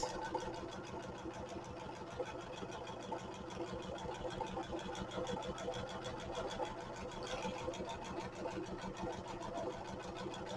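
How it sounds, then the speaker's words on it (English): A sewing machine stitches around a paper journal cover, a steady, fast, even needle rhythm that runs close and continuous throughout with no pauses. "I'm going to just do my stitching around the rest of the cover."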